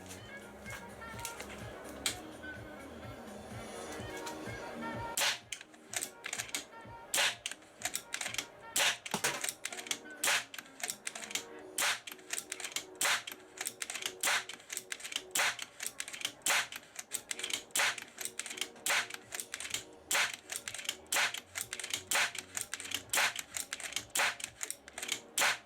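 An SPA M60 airsoft gun clamped in a vise fires a long string of test shots, sharp rapid clicks and cracks at close range with a fairly steady rhythm, following a few seconds of quieter handling noise.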